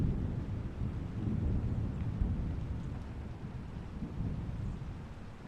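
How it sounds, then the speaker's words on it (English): Steady rain hisses close by while low, rolling thunder rumbles underneath, continuous and dense throughout. "I've always loved the sound of rain."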